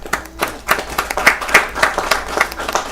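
At a school board of education meeting, a small group claps for a few seconds, with irregular, moderately loud hand claps overlapping.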